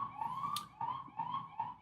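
Wailing emergency vehicle siren outside, cycling up and down in rapid repeated sweeps, fairly faint and distant with no talk over it.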